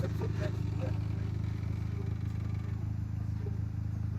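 A car with worn rear shocks and front top mounts, handbrake still on, strains with a steady low engine drone and faint rattles as it tries to pull away, close by and constant throughout.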